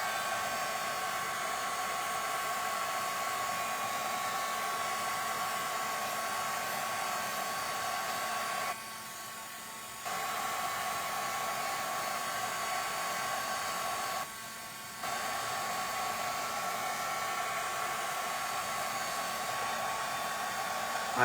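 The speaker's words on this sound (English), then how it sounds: "I did plug in my heat tool already." A heat tool runs steadily while drying paint on an art piece, its constant blowing hum filling the scene, briefly dipping twice as if switched or moved away.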